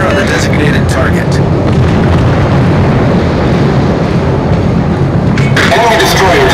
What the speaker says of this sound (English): opening fire on the designated target.